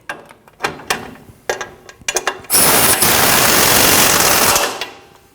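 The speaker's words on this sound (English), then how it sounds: "Now you can tighten the bottom strut bolt." Bottom strut bolt on a Nissan NV2500 being tightened: several sharp metallic ratchet clicks and clanks, then a loud sustained whir of a power tool running for about two seconds before it stops.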